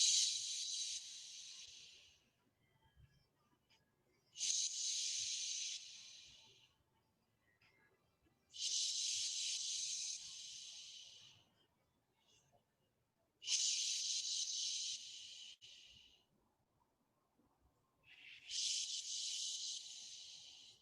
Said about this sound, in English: let's use that power breath and steam it out